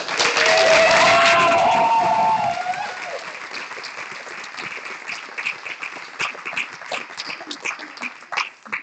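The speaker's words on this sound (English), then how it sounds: "I really think we should give him a round of applause." A community meeting audience bursts into loud applause that fades after a couple of seconds into scattered claps and murmuring.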